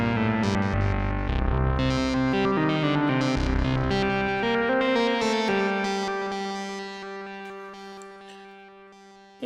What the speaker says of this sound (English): one of the cool things about this analog synth is you can add